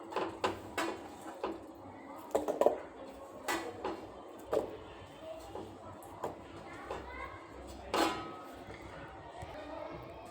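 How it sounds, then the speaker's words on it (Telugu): Onion pieces pounded with cumin for a chutney: a series of irregular, sharp thuds of a pestle striking, spaced unevenly over several seconds in a quiet kitchen, with soft speech in the background. "కొంచెం జీలకర్ర వేసుకొని ఈ ఉల్లిపాయ ముక్కలు కచ్చా పచ్చాక దంచుకోవాలి"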